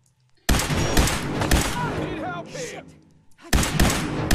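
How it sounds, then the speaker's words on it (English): Loud bursts of rapid gunfire in Fallout 4, a dense volley starting abruptly, easing briefly, then resuming with sharp close shots, with speech mixed in. "these guns are quite good, aren't they?"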